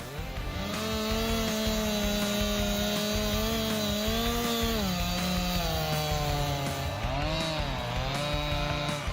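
Heavy-duty chainsaw cutting logs, a loud continuous buzzing whine that rises and dips in pitch as the chain bites into the wood, alone and close.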